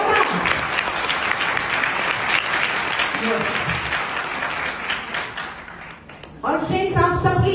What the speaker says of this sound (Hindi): तो जोरदार तालियां आप सभी के लिए